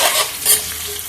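Sliced onions and green chillies crackle and hiss loudly in a hot pan, a brief, close burst of frying with a stirring swish and no voices.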